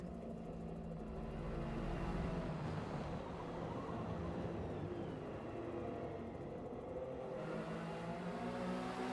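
Chevrolet GT3 race cars accelerating out of Degner toward the hairpin at Suzuka in a racing broadcast, a steady, moderately loud engine drone with slight pitch shifts as the cars pull through, no voices.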